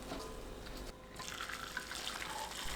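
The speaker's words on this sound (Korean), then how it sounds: "뜨거운 양념물을 체에 걸러 두부 위에 붓습니다" Hot seasoning liquid is poured through a sieve onto tofu in a container, giving a soft, continuous trickling and splashing of liquid with a brief dip, close and quiet.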